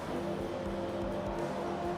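Race cars at Indianapolis Motor Speedway downshifting, a dense, continuous roar of several engines with steady droning tones and slight pitch dips, loud and unbroken with no voices.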